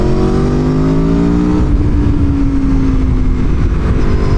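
An Aprilia Tuono 1100 Factory sport motorcycle revs high and shifts, pitch climbing then dropping through downshifts, loud and close with a steady roar throughout.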